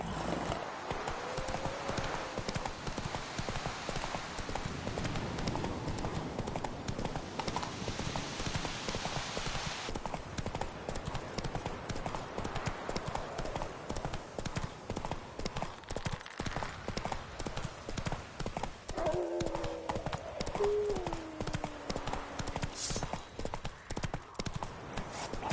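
Roach, the horse from The Witcher 3 game, gallops with steady rhythmic hoofbeats clip-clopping throughout, close and continuous, with a brief whinny near the end over faint game ambience.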